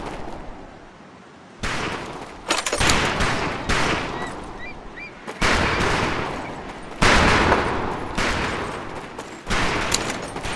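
Rifle fire on a training range in the WWII shooter Medal of Honor: Pacific Assault: several loud, close shots crack out in an uneven sequence, some overlapping, each leaving a ringing echo.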